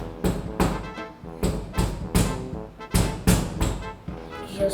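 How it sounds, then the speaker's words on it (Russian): Someone knocks on a neighbour's door in a real-life take on the Hello Neighbor game, with about nine loud, sharp thumps in uneven groups, close and hard. "Придется к нему стучать в двери."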